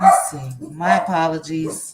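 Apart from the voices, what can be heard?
dogs barking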